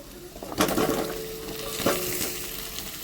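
Chopped onions frying and being stirred in a pan, a steady close sizzle broken by two sharp scrapes of the spoon against the pan, with no speech.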